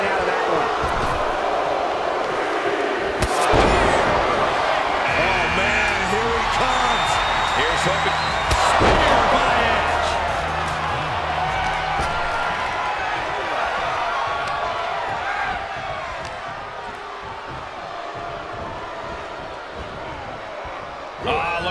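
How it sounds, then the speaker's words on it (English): A big wrestling arena crowd at a Royal Rumble roars continuously in a loud, dense wash of cheering, with thuds from the ring and a commentator talking over it. "Listen to this crowd."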